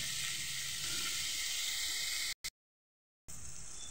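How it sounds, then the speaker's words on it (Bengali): Pumpkin and chickpeas hiss and sizzle steadily in a pan as they are stirred. The sound cuts out abruptly near the end, then the sizzle resumes. "এবার একসাথে সব নেড়ে নেবো। ভালোভাবে 5 মিনিট আমি নেড়ে চেড়ে নেবো।"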